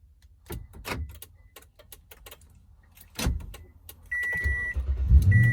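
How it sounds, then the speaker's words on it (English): A Toyota Tundra is started by remote. A few scattered clicks and thumps come first, then a steady electronic chime sounds and a low engine rumble builds near the end, close by. "So I'm going to remote start it now and see if it continues to flash."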